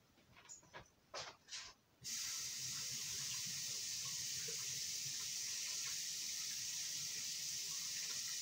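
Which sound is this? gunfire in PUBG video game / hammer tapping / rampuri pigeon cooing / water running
water running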